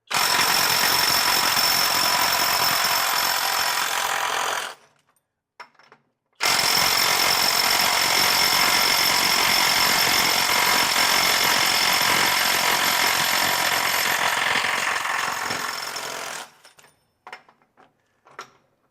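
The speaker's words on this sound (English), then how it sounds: "That's a lot of torque from a little impact wrench." A Kobalt 24V brushless mid-torque 1/2-inch impact wrench on a fresh battery in mode 3 hammers loudly and up close in two long bursts of about five and ten seconds, followed by light metallic clinks.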